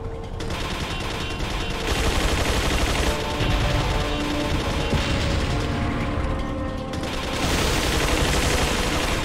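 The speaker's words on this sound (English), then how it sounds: "So let's go ahead and get in this gun battery." Sustained heavy gunfire from a mounted gun battery in Resident Evil 4, a dense, continuous rattle of rapid shots with booming impacts and mechanical clatter, loud and unbroken for the whole stretch with no voices.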